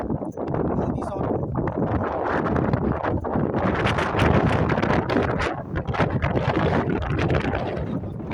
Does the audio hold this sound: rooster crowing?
no